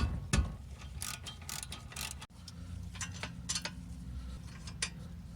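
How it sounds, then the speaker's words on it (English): Ratchet working on the caliper bracket mounting bolts of a 2005 Acura TSX during a front wheel bearing job, giving quick clicking pawl ticks and metallic knocks up close in a quiet garage. "Next, remove the caliper bracket mounting bolts."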